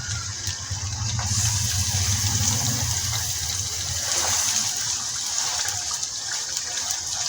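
Running tap water gushes steadily over one kilo of chicken being washed for a restaurant-style white chicken karahi, a continuous close splashing flow with no talk.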